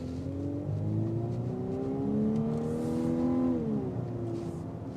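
A 2025 Volkswagen Atlas Peak Edition SUV accelerating in sport mode, its engine note rising steadily through the rev range, then dropping briefly as a gear is held and shifted before climbing again; fairly quiet, recorded from inside.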